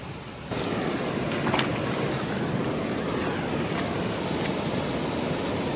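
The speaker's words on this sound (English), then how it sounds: "There's already enough flow in this creek, bro." Water rushes in a secluded hinterland creek as a loud, continuous broadband wash close to the microphone, with no voices present.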